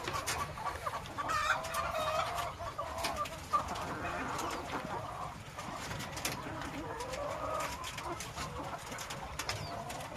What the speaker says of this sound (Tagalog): Hello mga chicken. Ayan, ayun, daming manok mo.